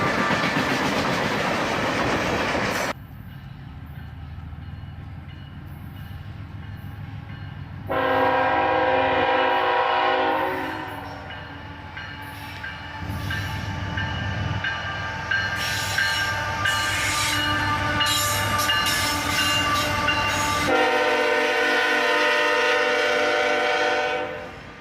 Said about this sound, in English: A pair of Dash 9s lead this manifest train.